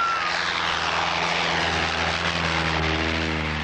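A bush plane from the Iditarod race in Alaska drones steadily overhead, its propeller engine a continuous loud hum with a low steady tone throughout, no voices heard.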